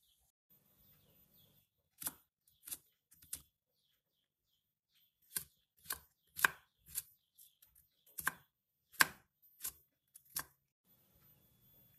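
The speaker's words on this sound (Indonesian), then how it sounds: "Kucainya kita potong kecil-kecil." Garlic chives chopped into small pieces on a board, crisp knife strikes close up in short irregular bursts of two or three, separated by quiet pauses, with no talking.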